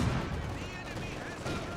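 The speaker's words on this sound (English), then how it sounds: "And though you've been hit by a mortar" Heavy battle gunfire and explosive fire in Company of Heroes 2, a loud continuous barrage with a deep thump at the start and rattling shots throughout.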